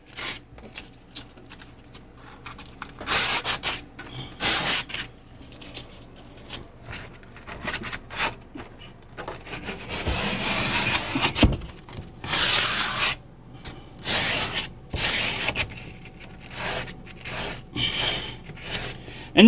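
Hand sanding scuffs the sheen off a camper kitchen backsplash in irregular rasping strokes, some short and some long, close and moderately loud with brief pauses between passes.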